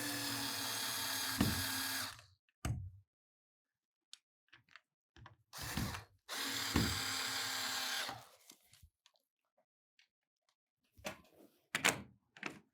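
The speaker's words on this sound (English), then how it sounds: "first we're going to screw them in loosely" A cordless drill driving screws loosely into wall cleats, two long whirring bursts, each about two seconds and ending with a click, separated by quiet handling clicks and taps.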